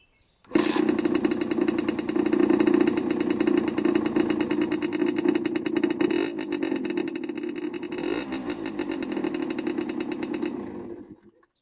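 A small 50cc moped engine buzzes up close, revving at a high, rattling pitch for about ten seconds before cutting off.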